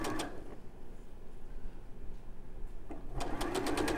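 A sewing machine stitching quilt pieces with a quarter-inch seam, running in short steady bursts with a rapid mechanical chatter that stops partway through and starts again near the end, close up.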